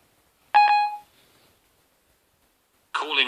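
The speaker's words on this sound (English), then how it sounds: "so, calling Tom, right? This is his phone" An iPhone placing a call gives a single short electronic tone with a fading tail. A second burst of tones follows after a silent gap.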